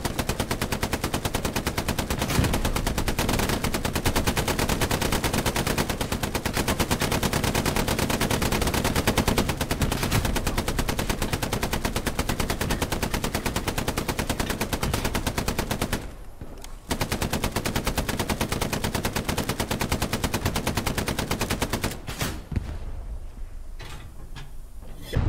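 Vehicle machine gun fire in the video game Squad, a loud, rapid, continuous mechanical rattling of automatic bursts that runs almost unbroken, pausing briefly twice before carrying on.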